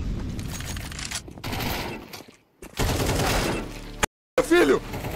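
Gunfire in the video game Counter-Strike 2, bursts of rapid shots and scraping effects broken by brief silent gaps, with voices talking over the game sounds.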